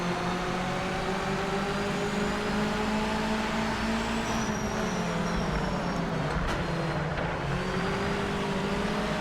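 Mazda MX-5 engine held at high revs at the start of a race in Project Motor Racing, a steady loud drone with harmonic lines that sag and climb as the revs dip near the end, over general grid noise.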